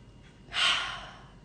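One deep breath drawn in audibly through the mouth at close range, a single airy rush that swells over about half a second and then fades.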